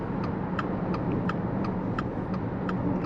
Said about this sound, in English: let's do a small acceleration